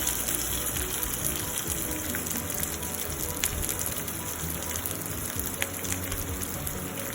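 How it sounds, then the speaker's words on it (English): Chilies sauteing in a pan for dhokla, a constant close sizzle and crackle of frying with scattered pops, steady and even throughout, no talking. "Just saute it for 1 more minute so that chilies will leave its bitterness."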